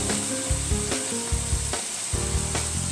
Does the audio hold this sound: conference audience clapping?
no